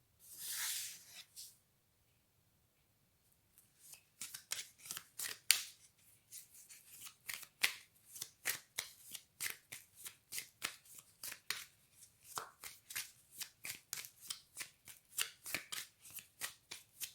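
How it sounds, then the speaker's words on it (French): Persian tarot cards being shuffled by hand, a brief riffle followed after a pause by a long run of quick, crisp card flicks in a steady rhythm, close and fairly quiet with no talking. "on commence avec le tarot persan de Madame Indira"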